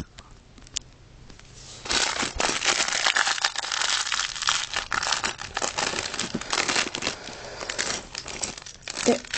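Plastic packaging of a Lego City advent calendar box crinkles and crumples steadily and loudly for several seconds after a quiet start, with occasional tearing-like crackles.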